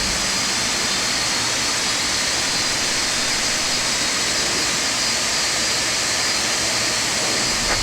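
A simulated Boeing 747-200 in X-Plane 11 runs its jet engines during start-up, giving a loud, steady, broadband roar and whine that holds unbroken from start to finish.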